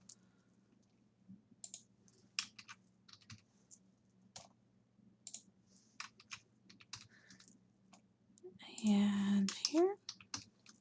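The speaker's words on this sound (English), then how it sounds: "start typing a bit of text in each of these boxes so that it registers" Soft, quick keystrokes of typing on a computer keyboard tap away intermittently and close by, with a brief murmured voice near the end.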